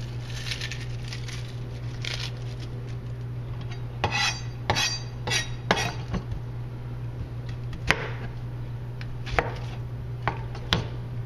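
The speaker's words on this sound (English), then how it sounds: "There you go, just rough chop." Knife rough-chopping poached chicken on a board, irregular sharp knocks and cuts that cluster in the middle and recur sparsely, over a steady low kitchen hum with no talking.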